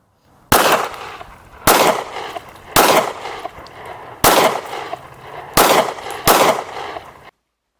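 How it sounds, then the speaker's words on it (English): Six loud, sharp gunshots from a Smith & Wesson Shield pistol fired through a pocket, spaced roughly a second apart with a brief ringing decay after each, close and alone with no talk. "Smith & Wesson Shield through the pocket."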